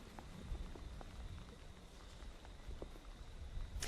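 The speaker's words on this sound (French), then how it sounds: "on a de la pluie, une pluie incessante et de plus en plus persistante depuis 1 heure" Persistent heavy rain falls steadily during a hurricane in Guadeloupe, a dense continuous hiss with scattered drop impacts and low rumble throughout, no voices.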